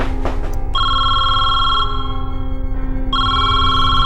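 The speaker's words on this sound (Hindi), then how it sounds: "डैडी का फोन।" A telephone rings loudly and close, a sustained electronic bell tone in two long bursts separated by a short pause, with no voices over it.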